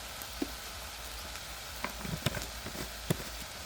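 Dried fish curry with salt and chili powder added sits quietly in the pan, a low faint sizzle and bubbling running underneath, broken by a few soft clinks and stirring knocks.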